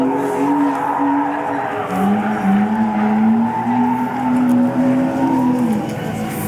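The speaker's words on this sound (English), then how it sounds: "It's a competition 350Z setup, the LS." A competition LS-swapped Nissan 350Z drift car with a Wise Fab kit, its tires squealing in a long, wavering continuous screech over steady engine roar, loud and sustained throughout.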